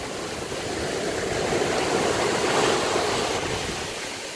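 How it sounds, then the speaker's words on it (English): Ocean waves roll in at Stockton Beach, a close, loud, continuous wash of surf that swells toward the middle and eases off slightly, with no voices. "the waves are coming in, and it almost feels like you're moving or something."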